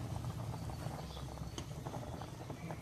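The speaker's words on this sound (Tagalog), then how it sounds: "Ito na oh, kulong-kulo na." Native chicken tinola soup at a rolling boil in a pot, giving a steady, continuous bubbling and simmering hiss throughout, fairly close and even in loudness.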